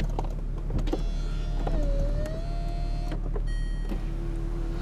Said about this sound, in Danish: Og så sådan smider den selv vinduerne op også